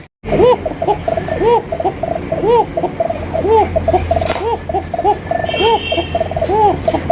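Pigeons at a Bengali pigeon farm coo in repeated soft rolling phrases, several birds overlapping nearby against a steady low background hum with occasional chatter.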